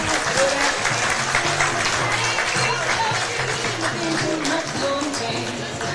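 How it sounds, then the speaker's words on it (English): A crowd at a prep baseball game between Jesuit and Alexandria applauds a departing pitcher, a steady wash of clapping that runs the whole time beneath a commentator's voice. "Both sides applauding him."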